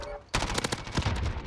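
Rapid bursts of automatic gunfire from an MP5 submachine gun in the Modern Warfare video game, loud, close and dense shots starting abruptly, with a voice partly underneath.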